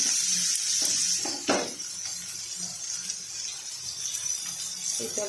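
Onions frying in hot oil in a pan for beresta give a steady, fairly soft sizzle throughout, with a few light clinks of a utensil against the pan.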